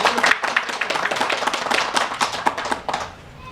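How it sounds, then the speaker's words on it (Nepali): An audience at a savings and credit cooperative meeting claps loudly to pass the annual report, dense sharp hand claps in an uneven burst that fades out after about three seconds. "म जोरदार ताली बजाएर पारित गरिदिनुको निम्ति अनुरोध गर्छु"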